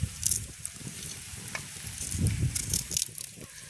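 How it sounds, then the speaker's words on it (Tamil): Onions and chillies fry in a pan for a village-style curry, giving a low, uneven sizzle with occasional stirring scrapes and light crackles, close by and fairly quiet, with no one speaking. "கலப்பி எடுத்து போட்டு வெங்காயம் மிளகாயை பட்டி முருங்கைக்காயை போட போகிறோம்"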